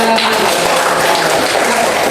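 Students in a classroom give a round of applause at the end of a lesson: loud, continuous clapping from many hands, dense and unbroken throughout.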